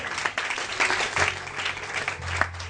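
A church congregation applauding in praise: a brief burst of continuous clapping, fairly close and full, with low voices murmuring underneath.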